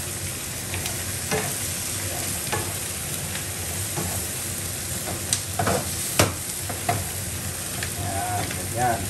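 Squid scored in a crosshatch pattern sizzles steadily while being stir-fried in a hot pan for a black bean sauce dish, with a continuous loud hiss and occasional sharp clinks and scrapes of a utensil against the pan.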